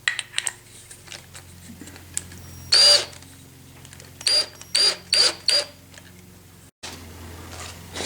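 Craftsman 19.2-volt cordless drill on clutch setting 4 driving a screw into pre-drilled hardwood, with short whirring bursts and the clutch slipping in a rapid ratcheting chatter, several separate pulses, near and loud.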